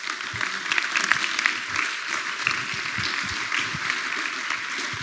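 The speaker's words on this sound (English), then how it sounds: "let's give them all a round of applause" Conference audience at an opening-remarks session applauding, a dense steady wash of many hands clapping that holds evenly throughout.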